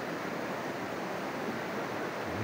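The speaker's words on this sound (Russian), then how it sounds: "журчит вода, поют птички." Water murmuring outdoors in nature at a sanatorium in the village of Putkhin, Ayni district, Tajikistan: a steady, even rushing hiss that continues unchanged for the whole short stretch, with no voices.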